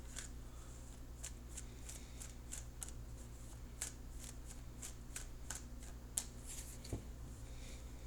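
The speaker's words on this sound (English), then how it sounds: "I'll cut the card shortly." A deck of tarot cards being shuffled and cut by hand: soft repeated riffling flicks and taps, close and quiet over a low steady background hum, with no talking.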